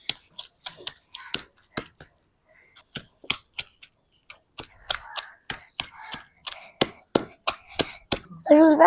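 Onions being coarsely chopped with a knife on a board in a village kitchen, a steady run of sharp close taps in short irregular bursts with brief pauses, no talking.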